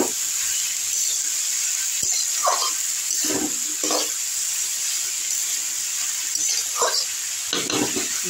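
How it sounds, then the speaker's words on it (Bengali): Potatoes and eggplant are stirred in a cooking pot, giving soft wet scrapes and shuffling sizzles in several short bursts over a constant steady hiss, close by. "এবার এগুলো নাড়া দেবো, নেড়ে তারপর ঢাকা দিয়ে দেবো।"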